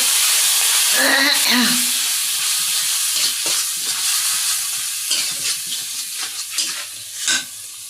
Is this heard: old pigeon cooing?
no